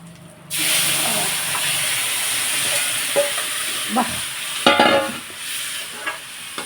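Tamarind broth poured into a hot curry-leaf tempering bursts into a loud, sustained sizzle and hiss, with a few clatters of stirring over the steady frying noise.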